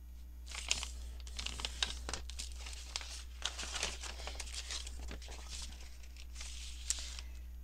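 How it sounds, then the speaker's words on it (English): Paper for a junk journal rustles and crinkles as it is folded, soft close-up crackles and taps repeating over several seconds against a low background hum. "we can fold that while we're waiting for the glue to dry"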